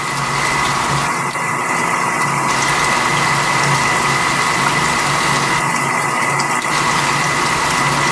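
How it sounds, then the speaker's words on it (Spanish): An electric water pump hums steadily as it pushes water through the system, a constant, fairly loud mechanical drone with a faint watery rush and no talk. "él automáticamente comienza a bombear agua"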